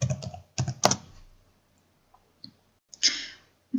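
Someone types a short search term on a computer keyboard, giving a quick cluster of close key clicks, a pause with a few isolated taps, then a final sharper keystroke.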